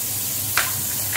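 Butter sizzles in a kadhai (wok) at the start of a paneer sandwich recipe, giving a short, steady hiss with a faint crackle partway through.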